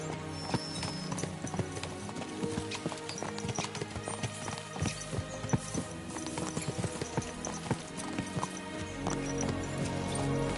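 Horses' hooves clip-clopping at a steady trot in Kingdom Come: Deliverance II, a continuous rhythmic patter of hoofbeats with tack and ambient game sounds, fairly close.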